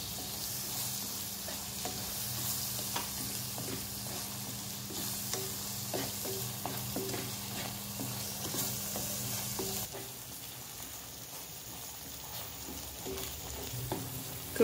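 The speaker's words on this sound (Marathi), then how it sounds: "मसाला परतून घेऊया." Masala sautéing in a pan over medium gas for rajma masala, a steady soft sizzle with frequent stirring scrapes throughout, quieter and thinner for the last few seconds.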